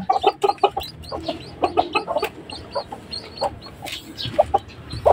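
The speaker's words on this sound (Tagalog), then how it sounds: "Dalawang sisiw yan." Chinese Silkie hens clucking and chicks peeping near a fresh hatch, a busy run of short close clucks and cheeps with no talk.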